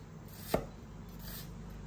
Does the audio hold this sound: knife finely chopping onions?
yes